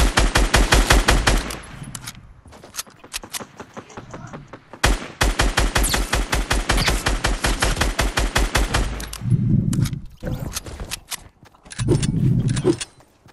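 Video game gunfire crackles in rapid automatic bursts, loud and close, with dense rattling volleys broken by short pauses and a few low thuds, and no voices over it.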